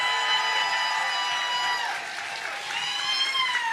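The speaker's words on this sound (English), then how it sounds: "Let's give them a round of applause" A crowd applauds at a live podcast event, a dense, continuous patter of clapping with cheering and voices mixed in, steady and fairly loud throughout.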